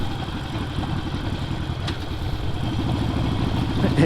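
A Harley-Davidson motorcycle engine runs steadily nearby, a loud, continuous low throbbing idle with an even, pulsing rumble and no voices.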